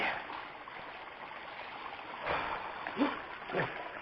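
Steady rushing of flowing stream water fills the clip, with a few louder splashes and gurgles near the end.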